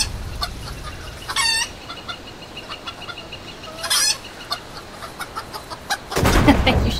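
Chicken in the Skyrim video game giving short, sharp clucks and squawks, a few separate bursts scattered over quiet background noise, followed by a louder rush of noise at the end.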